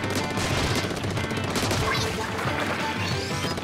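Heavy Splattling gun from the video game Splatoon firing a dense, continuous stream of rapid shots over busy game music and effects, close and loud throughout.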